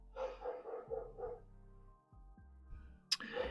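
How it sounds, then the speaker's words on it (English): Neighbours' dogs bark in the distance, a quick run of four or five faint barks, then quieter noises and one more sharp yelp near the end. "Neighbours' dogs."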